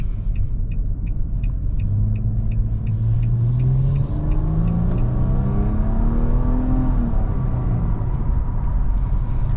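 A 2022 Nissan Maxima's 3.5-litre V6 engine hums and rumbles from inside the cabin, its pitch climbing smoothly as the car accelerates, then settling into a steady drone.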